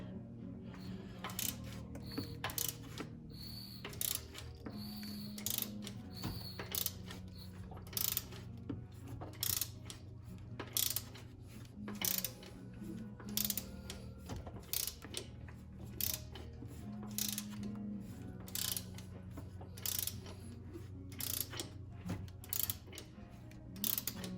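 A hand ratchet slowly turns the crankshaft of a Ford 302 small-block V8, with repeated sharp clicking bursts and light mechanical clunks over a low background hum, fairly quiet and close.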